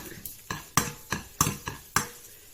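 Bean sprouts and pork belly stir-fried in a pan, a spatula scraping and clanking in a quick regular rhythm of about eight sharp strokes, close and clear with no talk.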